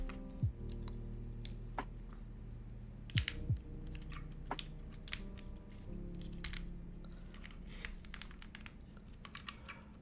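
Close-up typing on a Tata80 mechanical keyboard fitted with Obscura switches, an uneven run of crisp individual keystrokes with a few louder clacks, some faint thuds and scrapes in a quiet room.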